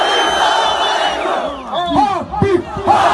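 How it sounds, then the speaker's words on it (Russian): A huge crowd at the central stadium in Dushanbe chants and roars, a loud, echoing mass of voices rising into rhythmic shouts of a name that swell and repeat toward the end. "огромная толпа скандировала «Хабиб!"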